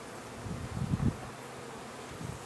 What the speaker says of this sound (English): I hopefully am not squashing a whole mess of bees here